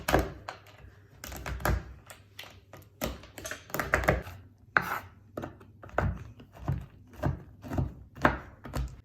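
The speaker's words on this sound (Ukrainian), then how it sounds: "Цей шоколад ще дрібнесенько-дрібнесенько подрібню." Chocolate is chopped finely with a knife on a board, a quick run of sharp, close thunks and taps in a steady, slightly uneven rhythm.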